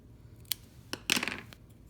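Scissors snip through a Color Street nail strip, giving a couple of short, crisp cuts close by, the last one a brief crunching slice, with no talk.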